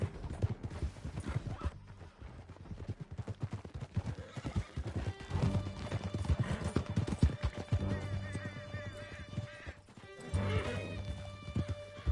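Horses gallop through a Red Dead Redemption 2 scene, steady hoof beats rolling under a dense bed of music and effects, with a horse whinny rising near the end.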